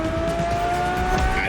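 A Ferrari sports car engine in the racing video game The Crew Motorfest, a steady loud drone with a sustained tonal whine and faint tire noise throughout, no talking.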